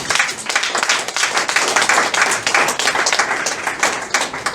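A church congregation at a Full Gospel service in Togo applauding and cheering the Lord, with dense, sustained clapping and crowd noise filling the room throughout.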